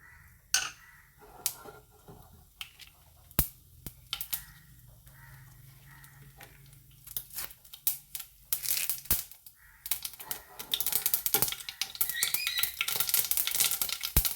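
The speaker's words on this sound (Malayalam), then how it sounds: "എണ്ണ ചൂടായി കടുക് ഇടുകയാണ്." Mustard seeds crackle in hot coconut oil while spinach thoran is being made: scattered sharp pops at first, building into a dense, steady spluttering sizzle near the end, with no talking.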